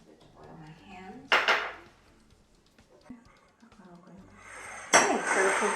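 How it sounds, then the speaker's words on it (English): Mixing bowls clatter and clink as they are handled and oiled with vegetable oil for bulk fermenting bread dough, with two loud bursts of dish noise, lighter knocks between them, and faint speech in the background. "I'm just going to quickly oil the 2 bowls that we're going to use to bulk ferment the dough."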